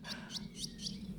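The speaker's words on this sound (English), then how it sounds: "They're my favourite bird." Swallows chirp at a sanctuary in four quick, evenly spaced high calls, faint and somewhat distant over a low background hum.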